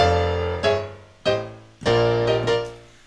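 A gospel-style drop played on keys, a few rich chords struck one after another with short gaps, each ringing and decaying before the next lands.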